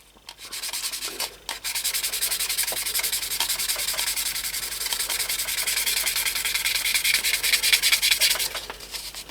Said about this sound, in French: On peut voir un peu ce que ça donne au ponçage.